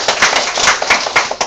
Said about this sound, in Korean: 예, 박수 한번 주십시오.